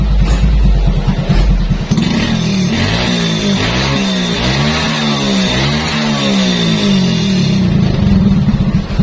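A Yamaha Vega R motorcycle with a smoking engine runs during a test, loud and close, idling with a throbbing pulse, then revving up and settling back down.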